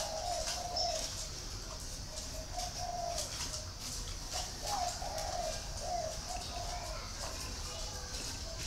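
A caged red-whiskered bulbul decoy bird gives repeated short calls over a steady loud background hiss, the calls recurring every second or so at moderate distance.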